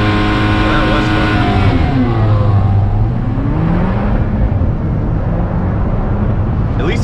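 An Alfa Romeo 4C launches hard under launch control, its engine note loud and close as it climbs steadily through the revs with shifts, a continuous powerful acceleration lasting several seconds.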